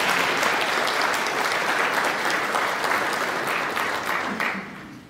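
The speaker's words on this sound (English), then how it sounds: "give them a hearty round of applause for supporting you" Graduating students at a ceremony give a hearty round of applause, dense continuous clapping from a large crowd that fades out near the end.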